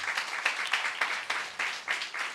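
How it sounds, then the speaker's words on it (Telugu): Audience clapping together during a Christmas sermon at a church service, a steady run of hand claps with rhythmic surges, moderately loud and continuing throughout with no talk over it. "చప్పట్లు కొట్టండి ఒకసారి"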